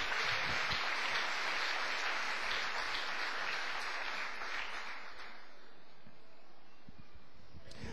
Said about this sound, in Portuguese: Quem pode dar uma bela salva de palmas para o Senhor Jesus?